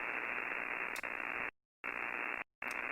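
Steady hiss of radio interference on the 10-meter amateur band, broadband crackle from outside noise, cutting out twice into brief silences before resuming, with no voices.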